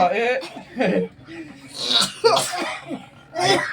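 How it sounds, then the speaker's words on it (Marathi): A woman sneezes once or twice in a home, the bursts close and abrupt, mixed in among people talking and laughing nearby. "आईचं पण शिंकणी चालू झाली"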